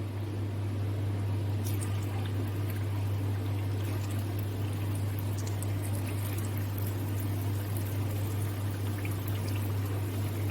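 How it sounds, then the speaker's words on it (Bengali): Raw banana koftas deep-fry in a pan of hot oil, giving a steady, dense sizzle and crackle that holds at an even level throughout, with a low constant hum underneath and no talking. "তেলটা গরম হয়ে গেছে, কোপ্তাগুলো আমি এবার ভেজে নেব লাল লাল করে।"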